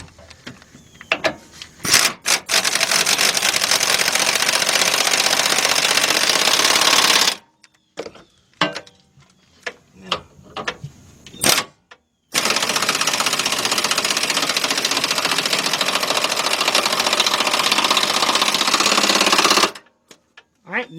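Air impact gun tightening bolts on a Chevy Tahoe during fuel pump work, heard as two long loud continuous rattling bursts of about five and seven seconds, separated by short clicks and handling noise.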